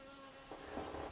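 A single honeybee buzzing indoors in winter, a faint, steady hum that swells slightly louder midway through, with no talking.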